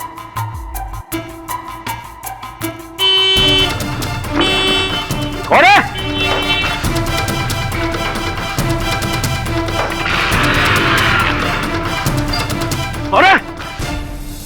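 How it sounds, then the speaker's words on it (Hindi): A car horn honks in short toots several times over a busy, music-backed indoor scene, with loud crashing accents and a voice talking at points. "बरोबर 3 बजे अपन को हॉर्न बजाने का है"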